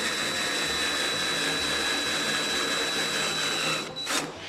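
Spot weld cutter bit drilling slowly through one layer of spot-welded automotive sheet metal, a steady loud whirring grind that holds for about four seconds before easing off.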